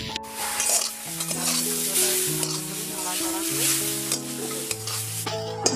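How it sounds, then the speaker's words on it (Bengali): Grated coconut frying in a hot wok on the stove, a steady close sizzle with stirring scrapes and a faint background tone, no talk. "গরম কড়ার মধ্যে নারকেল কুড়ো দিয়ে দিচ্ছি।"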